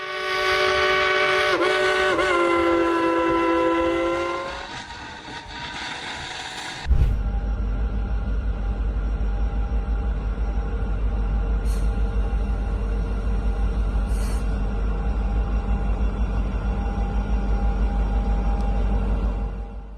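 The Dollywood Express steam train in the Smoky Mountains sounds a long steam whistle in several blasts, then rumbles and clanks heavily as it rolls past close by, with a couple of short hisses.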